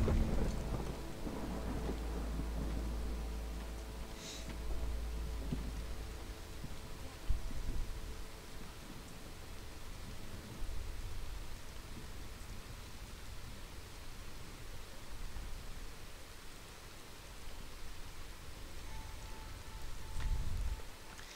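A steady wash of heavy rain from a storm in the city-building game Against the Storm runs throughout. Low thunder rumbles early on and swells again briefly near the end, with no voices over it.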